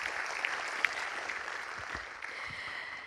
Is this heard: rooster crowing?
no